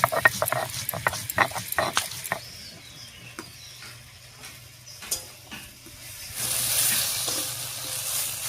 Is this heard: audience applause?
no